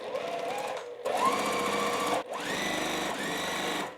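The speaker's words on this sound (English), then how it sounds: "we are going to sew on to the corners" A sewing machine stitching fabric pieces onto the corners of a quilt block, running in close, steady whirring bursts with a short pause between two runs.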